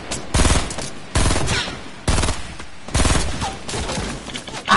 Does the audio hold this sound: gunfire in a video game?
yes